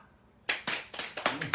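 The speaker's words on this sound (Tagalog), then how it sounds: "Palakpak!" Hands clap six or seven times in a quick uneven run, sharp and close, after a brief near-silent start.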